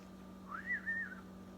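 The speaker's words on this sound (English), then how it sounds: "Whistle while you're chopping onions." In a home kitchen where onions are being chopped, a person whistles one short, faint note that rises and falls over a steady low hum; no chopping is audible.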